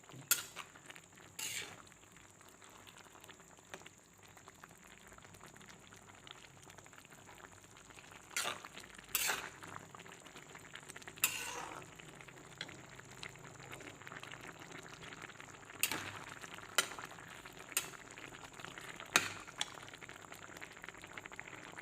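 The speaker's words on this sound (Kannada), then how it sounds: "ಇವಾಗ ಹೆಸರುಬೇಳೆ ಸೊಪ್ಪು ಎಲ್ಲ ಮಿಕ್ಸ್ ಮಾಡ್ಕೊಡ್ತೀನಿ." A pot of cooked moong dal and amaranth greens simmers quietly on the stove while a spoon stirs it, giving soft bubbling with scattered scrapes and clinks against the pot.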